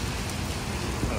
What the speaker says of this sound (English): it's like thick, heavy rain.